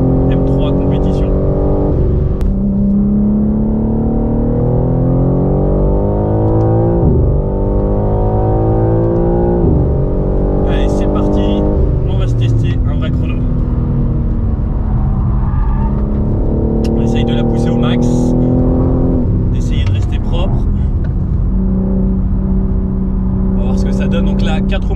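A BMW M3 Competition with four-wheel drive is pushed hard around a dry race track, its engine revving up and down in rising and falling sweeps, loud and close, with someone talking over it throughout.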